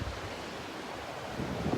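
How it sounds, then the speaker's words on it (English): Swirling surf washing across a beach over a water crossing, a steady roar of waves with wind buffeting the microphone, continuous and fairly close, with a slight swell near the end. "the path that I would like to make across the water there is covered in swirling water, swirling surf"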